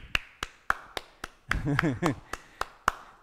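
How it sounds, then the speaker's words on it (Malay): Audience applause for Sanji at a Malay-language online workshop: a sparse run of evenly spaced sharp claps, moderately loud, with a brief stretch of talk and laughter in the middle. "Sanji bagi tepuk tangan Sanji"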